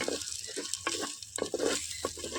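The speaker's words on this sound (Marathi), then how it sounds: "कांदो भाजा होतो" Onions frying in a pan for a Malvani-style jackfruit vegetable dish with garlic and chilli, a steady close sizzle broken by soft stirring scrapes and light patter, no voices.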